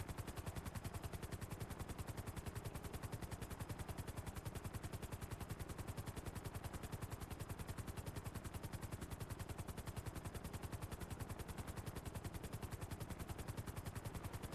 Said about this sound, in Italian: Bellissimo l'elicottero